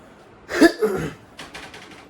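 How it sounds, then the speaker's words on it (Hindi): A single close, short cough burst, followed by a softer throat-clearing sound in a quiet room. "इससे मुझे खांसी आ रही है"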